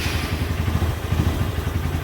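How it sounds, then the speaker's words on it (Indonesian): A Verza motorcycle engine with about three years of use and roughly 21,000 km on it runs steadily nearby, giving a low, even, pulsing idle with light mechanical clatter and no talk. "Baik, kita cek untuk suara mesinnya."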